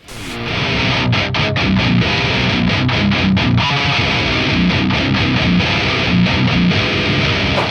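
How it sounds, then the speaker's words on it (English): An electric guitar played through a Total Distortion Worship pedal into a Marshall Origin 50 amp rips out loud, saturated distorted chords with rhythmic strummed attacks, dense and continuous throughout. "I have the Total Distortion Worship Pedal plugged into this Marshall Origin 50"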